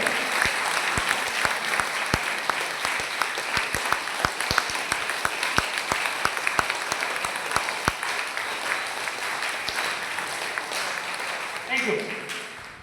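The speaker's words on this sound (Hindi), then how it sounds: "अच्छे वाली तालियां बजाएं" A crowd at an RCM business seminar gives a warm round of welcoming applause, sustained dense clapping with occasional sharp individual claps standing out, fading toward the end as a voice begins.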